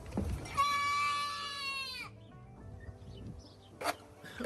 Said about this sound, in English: This goat started panicking because he tripped and almost fell.